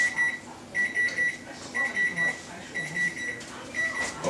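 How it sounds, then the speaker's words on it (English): Kitchen timer beeping while a turkey roasts, repeated bright electronic beeps in a steady rhythm of short bursts about once per second, fairly loud and close in a kitchen with light background noise. "there's the timer going off again"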